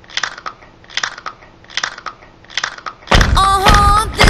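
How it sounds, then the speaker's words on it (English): Repeated crisp crunches from someone biting and chewing a Mexican Nacho-flavored Doritos tortilla chip, about five close bursts in steady rhythm, then louder mixed noise with tonal sounds near the end. "that girl eating a Mexican Dorito"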